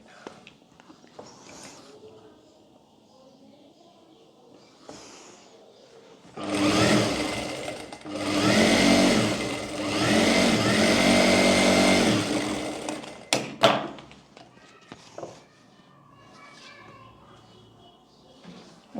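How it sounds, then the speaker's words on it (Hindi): An electric sewing machine stitches a seam on baby girl's cargo trousers in one loud, steady whirring run of several seconds, with quiet handling and faint talk before and after it. "यहाँ पर भी एक सिलाई लगा लेंगे।"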